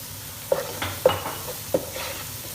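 Achari spice mix frying in oil for aloo baingan, a soft steady sizzle punctuated by three or four sharp spatula clicks against the pan, close up with no talk.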